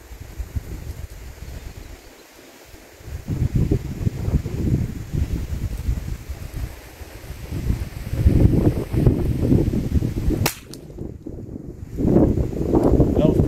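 Gusty outdoor wind buffeting a microphone at a rifle-scope shooting session, with low rumbling surges that rise and fall over several seconds, briefly dropping off and then returning.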